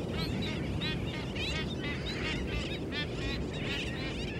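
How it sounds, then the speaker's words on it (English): A dense albatross colony on a beach calls continuously, with many overlapping honking and braying cries blending into a steady, busy chorus at a moderate distance. "On a nearby beach, a baby boom of these seafaring birds readies for takeoff."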